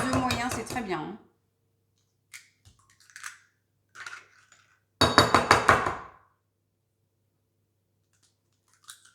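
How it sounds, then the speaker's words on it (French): Eggs are cracked against a bowl for a savoury salmon and dill cake: a few short, sharp cracks and clinks spaced over several seconds, with louder bursts of voice before and after. "Vous cassez vos œufs, catégorie 1."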